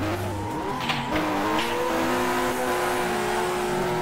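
A Mazda RX-7 drifting in the rFactor racing game: a sustained, high-revving engine drone holds steady, with pitch wavering as the throttle shifts and a faint tire squeal near the start, with no talk.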